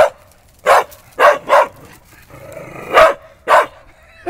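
Several dogs bark in short, loud bursts while playing together, about five sharp barks spaced irregularly with a low whine between them, close by and without talk.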